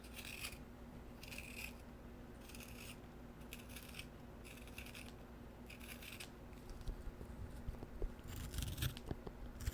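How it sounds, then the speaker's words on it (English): A colored pencil is sharpened by hand in a quiet setting, giving repeated soft, rhythmic scraping bursts of shaving at close range. No voice is heard. "Give it another little sharpen"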